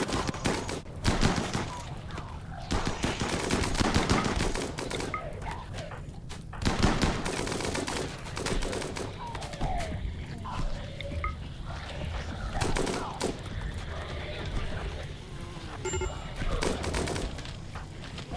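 Bioferrite rifles fire at corpses in a sci-fi colony game, a dense, continuous fusillade of overlapping gunshots with sharp louder bursts scattered throughout, steady and busy with no pauses.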